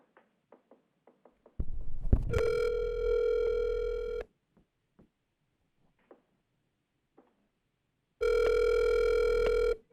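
A telephone line rings out twice while a public-comment caller is dialed for a city council meeting, each long electronic ring tone lasting a couple of seconds, separated by silence with faint clicks.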